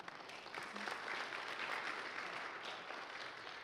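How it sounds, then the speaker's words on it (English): Church audience clapping together in a steady, moderately quiet burst of applause that holds evenly throughout without any speech over it. "you can clap for that"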